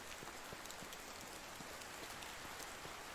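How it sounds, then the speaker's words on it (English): Rain falls in the medieval farming game Medieval Dynasty on the first day of spring, a soft, even hiss of pouring rain with faint scattered drops, steady and quiet throughout. "It's raining and pouring."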